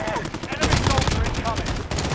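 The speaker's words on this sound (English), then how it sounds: "They fired at me!" Rapid bursts of automatic gunfire from the video game Call of Duty: Plunder, loud and dense, overlapping with excited shouting from players.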